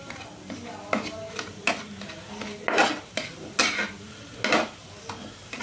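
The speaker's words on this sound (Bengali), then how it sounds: "এটা ভালো করে একটু মিশিয়ে নিচ্ছি আর একবার" A spoon stirs potato filling with kasuri methi in a pan, making a series of soft scraping clinks at an irregular, steady pace over a faint background hiss.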